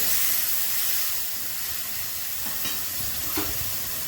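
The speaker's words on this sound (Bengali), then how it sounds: "আলু ভাজা হয়ে গেছে, মশলাটা দিয়ে দিলাম।" A steady, close sizzling hiss of fried potatoes cooking with spices in a hot pan, slightly louder at the start and then settling.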